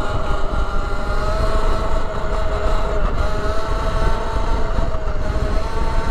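A 2024 Pro SS electric dirt bike pulls hard under steady throttle, giving a continuous loud whine with dense rumbling road and wind noise and no pauses.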